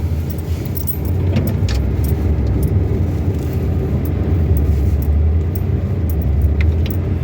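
A truck climbing an icy driveway with its wheels spinning, heard as a loud, steady engine roar and low rumble held throughout, with faint metallic jingling on top and no talk.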